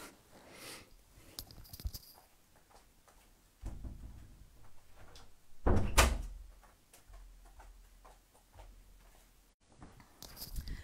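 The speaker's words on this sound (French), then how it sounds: "Je reviens, j'ai la porte qui s'est ouverte, je vais fermer la porte." Indoors, a door shuts with one sharp, loud thud. Softer shuffling footsteps and small knocks come before and after it in an otherwise quiet room.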